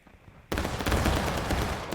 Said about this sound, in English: So 12th VA doing some volleys, trying to chip away at the Union